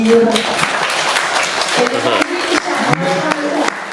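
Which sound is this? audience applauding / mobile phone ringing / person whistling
audience applauding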